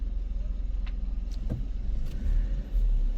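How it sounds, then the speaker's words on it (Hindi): Traffic backed up at Baralacha Pass on the Delhi to Leh road while a vehicle ahead reverses, with low idling engine rumble, a few faint mechanical clicks and whines, and a heavier engine swell near the end. "हम फंस गए हैं थोड़े से ट्रैफिक में क्योंकि आगे कोई गाड़ी बैक हो रही है"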